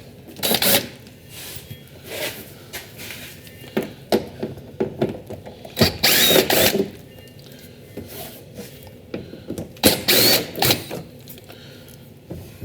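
Small bolts are worked out with a T30 Torx bit and a 5.5 mm socket on the upper oil pan of a 2017 Ford F550, giving repeated close metallic clicks, scrapes and ratcheting taps in uneven bursts.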